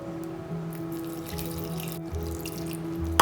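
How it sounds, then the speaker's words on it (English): Water runs steadily from a tap into a container while dosa batter is being made, a continuous close trickle with faint clinks and no talking. "Mix this well, and now slowly add water."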